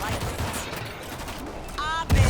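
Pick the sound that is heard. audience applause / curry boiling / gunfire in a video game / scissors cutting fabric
gunfire in a video game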